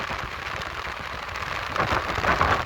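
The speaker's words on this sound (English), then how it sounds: "Wind's getting strong up here." Steady strong wind roaring across the top of a fire tower, a continuous broadband rush with gusts swelling louder toward the end, no voices.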